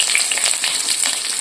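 Onion and bay leaf fry in hot oil for an Assamese pork dish, giving a loud, close, continuous sizzle with no voices.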